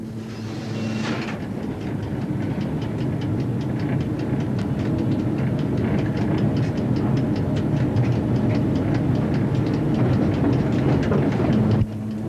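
A train hauled by an E636 electric locomotive runs on rails around Trieste stations in the 1990s, with a steady loud rumble and a continuous rapid clickety-clack of wheels over rail joints.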